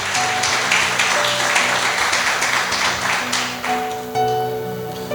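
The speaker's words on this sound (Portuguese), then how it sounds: "Aplauda o nome de Jesus." Congregation clapping steadily in a church, dense sustained applause with a faint musical tone beneath, fading slightly toward the end.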